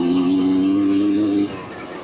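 A vintage 250cc two-stroke race quad engine runs steadily up close with a strong droning tone, then drops off sharply near the end as the throttle closes.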